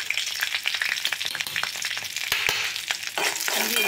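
Ginger pieces frying in hot oil for a Tamil fish curry give a steady close crackling sizzle with sharp pops and spatula scrapes. No one speaks.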